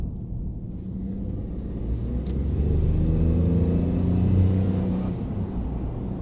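A Ford F-150 EcoBoost pickup truck accelerates with a steady, mid-pitched engine rumble that builds and peaks before easing slightly, heard alone without talk.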